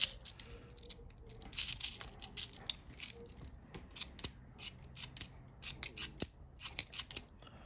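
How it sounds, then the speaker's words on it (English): Scissors snip open a bag of 50p and £2 coins, making a quick series of crisp, close cuts with brief pauses, plus light rattling and rustling between snips. "Another satisfying bag opening."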